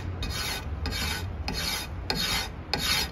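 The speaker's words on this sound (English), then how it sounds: "And then with my card scraper, I'm going to come through and start working off those" A steel card scraper worked along the edge of a short hickory self bow: five steady rasping strokes in an even rhythm, close and distinct, with no talking.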